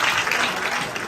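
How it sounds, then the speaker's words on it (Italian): Loud, dense audience applause at an awards ceremony in Genoa, a thick wash of clapping at close range with no pause across the full second. "Un applauso!"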